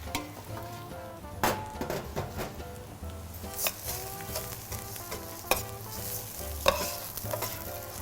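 Rice stirred and sautéed in a hot pot with a steady sizzle and scraping stir strokes, plus occasional utensil clinks against the pot, while cooking a turkey stuffing.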